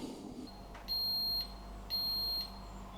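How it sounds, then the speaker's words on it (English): A Ninja Prestige Dualbrew coffee machine sounds its timer-done alert, two high electronic beeps about a second apart, each held for roughly half a second, clear over a quiet room hum. "There we go, timer's done"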